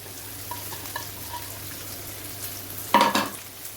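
Onions and peppers go into a hot pan: a quiet kitchen stretch breaks into a sudden loud burst of sizzling near the end, which then settles into a softer fry.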